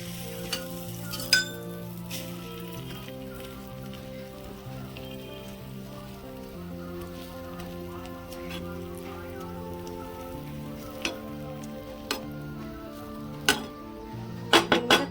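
Oil sizzles and crackles steadily under an egg dosa frying on a pan. The hiss stays close and continuous, with a few sharper pops and spatters near the end.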